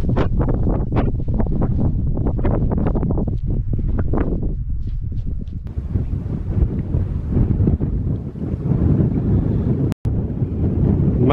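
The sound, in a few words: wind blowing on a mountain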